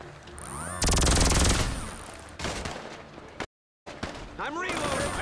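Rapid laser gun fire in GTA V erupts in a loud sustained burst, then stutters on in shorter volleys broken by a brief dead gap, with a voice talking over the shots.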